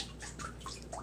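A soaked straw hat is lifted out of a water bath, and soft, quiet drips and small trickles fall back into the water at an uneven pace in an otherwise still space.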